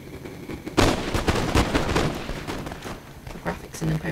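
Musket volleys crackle from a Napoleonic battle in Napoleon: Total War, a series of moderately loud, overlapping gunfire bursts over a continuous battlefield rumble, with some talk mixed in.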